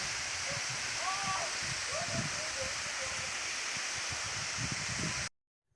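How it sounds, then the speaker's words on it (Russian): Steady broadband rushing of falling water fills the scene, loud and continuous, with faint rustling beneath before it cuts off abruptly near the end. "Водопад."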